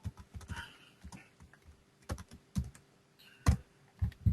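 Close, irregular clicking of computer keys, short bursts of taps with brief pauses between them, quiet and alone.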